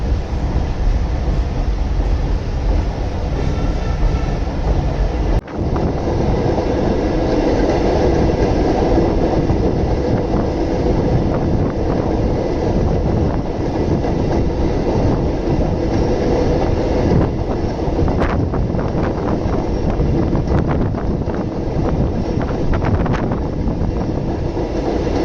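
A Chennai suburban local train runs over the new Velachery to St. Thomas Mount bridge, giving a loud, steady rumble with rhythmic wheel clatter throughout and a sharp bang near the start.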